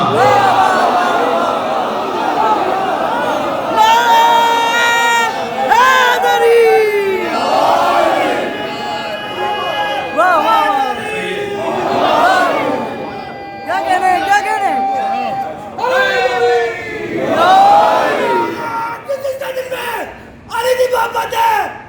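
A crowd at a Shia religious gathering in Jaffria Colony, Lahore, loudly chants religious slogans in rising, overlapping waves of massed voices, with brief lulls between shouted bursts throughout.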